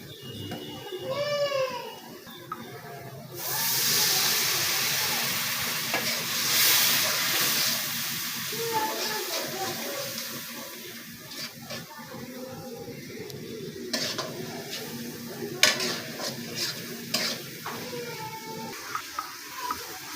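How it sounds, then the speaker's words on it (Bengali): Small fish stir-fried with chili powder sizzle and hiss in a pan through a long stretch, with scraping stirs and clinks scattered over the frying and faint background noise. "মরিচ মাছ কষানো হয়ে গেছে"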